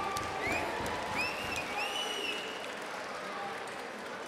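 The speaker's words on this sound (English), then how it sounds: "Ladies and gentlemen, a round of applause for these gladiators." A kickboxing crowd at a K1 event applauds and cheers for the two fighters, clapping and shouts mixed with whistles, loudest early and then settling into a steadier murmur.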